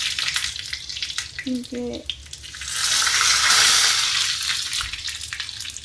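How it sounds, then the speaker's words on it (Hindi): Dal being tempered in hot oil with spices, a steady frying sizzle that swells loud and broad in the latter half, with someone speaking briefly over the kitchen sounds. "ये दाल बघार रही हूँ मैं"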